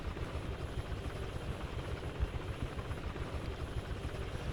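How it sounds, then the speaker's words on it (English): A helicopter hovers and circles over a professional road cycling race stage in Catalonia, a steady low rotor thrum and rumble holding continuously at a moderate distance with no talk. "So the helicopter's flown round the lumplet and is waiting for Thomas De Gendt to emerge"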